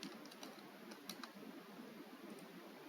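Steady typing on a computer keyboard, soft close key clicks in a quick irregular patter over faint room hiss, with no voices.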